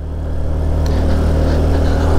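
A motorcycle climbs uphill on a high mountain road in the Philippines, its engine cooled from a stop, holding a loud, steady droning note close by with no pauses.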